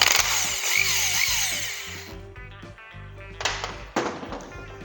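Loud whirring power tool, likely an impact driver, loosening a reverse-thread bolt on a Kawasaki Vulcan 500 motorcycle stator, running steadily then giving two sharp bursts near the end, no talking.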